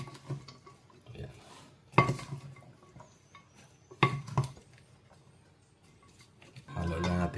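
Bean sprouts stirred in a cooking pan with a utensil, bringing a few sharp clinks and scrapes against the metal and then a louder rustling stir at the end, while a person talks between the sounds.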